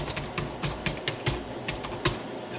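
Someone types a heading into an Excel spreadsheet on a computer keyboard, producing a quick irregular run of distinct key clicks at moderate volume with no talking.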